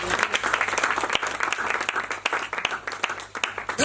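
A church congregation breaks into brisk, continuous applause in a reverberant hall, with scattered sharp claps and a few voices calling out beneath it.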